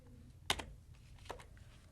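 A few quiet keystrokes on a computer keyboard while working in a spreadsheet, with two distinct clicks about a second apart and faint taps between, alone in a quiet room.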